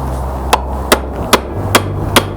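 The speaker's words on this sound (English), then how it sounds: "just hammer it down." Five evenly spaced sharp hammer strikes on a part being seated during a rear battery relocation on a KP61 Starlet, close and distinct over a low background hum.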